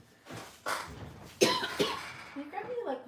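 A person coughs several times in short bursts, close to the microphone in a quiet room, with a throat-clearing sound and a few murmured words at the end.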